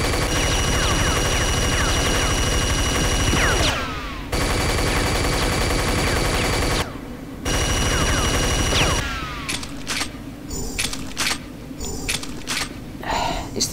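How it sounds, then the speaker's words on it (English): Minigun in the shooter game Unreal, firing in long continuous rapid streams cut by two brief stops, loud and close, then breaking into choppier short bursts near the end. "I just found a hidden minigun."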